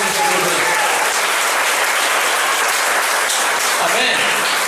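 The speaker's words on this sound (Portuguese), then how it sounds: "Dê uma salva de palmas glorificando a vida de Deus" A church congregation in Damolândia, Goiás, breaks into sustained, dense applause that fills the room at a steady loud level from start to finish, with a few voices faintly mixed in.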